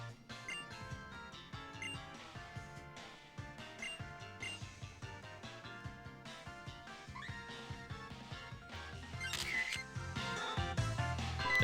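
A camera shutter clicks as a photo is taken in Pokémon Sun and Moon, a brief mechanical snap mixed into busy, continuous game music that dominates throughout.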